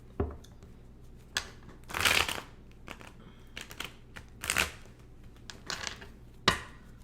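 Tarot cards are shuffled by hand in short, uneven bursts of papery riffling and slapping, several separate flurries with quiet pauses between, close and soft.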